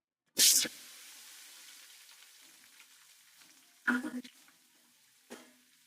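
Onion and tomato go into hot oil in a pan with a sudden loud hiss that quickly settles into a faint, fading sizzle. Two soft clatters follow a few seconds later.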